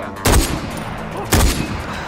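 Two sharp gunshots in Far Cry 4 about a second apart, loud and close, each with a short echoing tail over a steady background hum.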